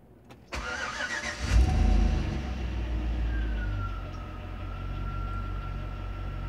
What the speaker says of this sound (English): Set parking brake, block drive wheels, start an idle engine.